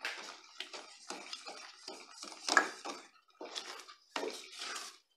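A spoon scraping and clinking against a cooking pot while seasoned beans are stirred, a close run of short, uneven strokes with brief pauses in between.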